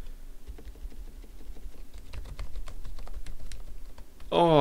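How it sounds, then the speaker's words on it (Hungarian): Soft, rapid keystrokes on a quiet metal-cased White Shark Cheyenne keyboard patter close by in an uneven rhythm, with a brief voice cutting in at the very end. "Ó, de jó, irodába egy ilyen csöndes billentyűzet."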